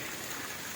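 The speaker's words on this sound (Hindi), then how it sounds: "बारिश की आवाज़ सुने, अभी बारिश स्टार्ट हुई है" Rain falling on a lemon orchard, a dense, even wash of drops hitting leaves and ground, steady and close throughout the short moment.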